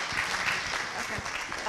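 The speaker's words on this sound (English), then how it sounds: "let's give a huge round of applause to Laila as she comes up, ladies and gentlemen" Audience applause fills a conference hall at a Pan African conference on illicit financial flows and taxation as a speaker comes to the stage; steady, dense clapping continues throughout at moderate volume.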